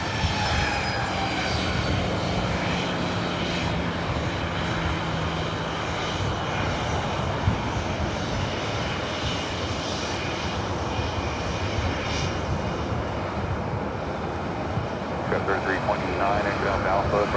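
A Southwest Airlines 737-700 jet taxis at LAX, its engines a steady, loud roar throughout, with air traffic control radio chatter heard over the engine noise.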